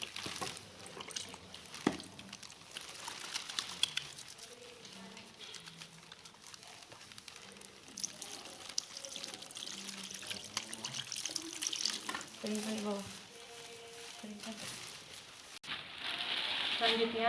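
Running tap water pours over hands being washed at a sink after a midwifery care procedure, a soft continuous splash with intermittent quiet voices talking under it.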